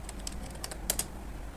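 Computer keyboard typing while entering text into an Excel spreadsheet, a quiet run of scattered light key clicks with two slightly louder taps near the end, no voices.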